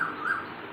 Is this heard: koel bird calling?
yes